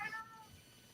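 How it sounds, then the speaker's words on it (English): A cat gives a single short, close meow at the start, then only faint background quiet follows. "Well, I hear a cat."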